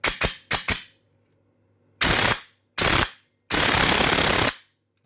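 An electric gel blaster, an LDT DDM4 PDW, fires a few quick single shots, then three full-auto bursts of rapid mechanical clatter, the last one longest, close up with no talking.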